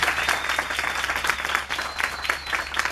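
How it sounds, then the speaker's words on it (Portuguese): Steady applause from an audience at a Brazilian social assistance pre-conference, dense clapping filling the whole span at a moderate, even level with no voices over it. "eu queria uma salva de palmas para minha companheira, para minha colega de trabalho"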